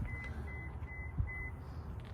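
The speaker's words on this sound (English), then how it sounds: "it gives you a little confirmation beep there." Four short, even electronic beeps from a Subaru Outback confirming it has locked sound in a steady rhythm, fairly faint over low background rumble.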